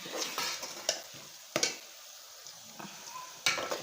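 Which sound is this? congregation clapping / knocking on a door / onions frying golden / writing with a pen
onions frying golden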